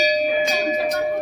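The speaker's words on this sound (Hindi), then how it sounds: "सर्वप्रथम घंटी बजा" A metal temple bell is struck at a crowded Shiva temple during Shivratri worship, ringing with a bright sustained tone and a couple of fresh strikes close by, with faint crowd murmur behind.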